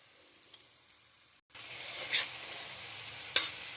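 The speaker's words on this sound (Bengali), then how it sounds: "মশলা ভাজা হচ্ছে" Spice paste of ginger, onion, tomato, chilli and turmeric sizzling in hot oil: a steady, bright hiss begins after a brief quiet gap, broken by a couple of sharp crackling bursts.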